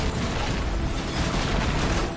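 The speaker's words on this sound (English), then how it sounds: "This tank is about to blow!" A tank blowing up in the Call of Duty 4 campaign, heard as a dense, sustained roar of explosive rumble and crackling debris filling the whole stretch at steady loudness.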